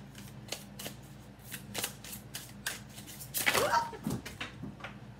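Oracle cards being shuffled by hand during a tarot and oracle reading, a run of crisp riffling flicks with a denser burst of card slaps near the end, close and fairly quiet.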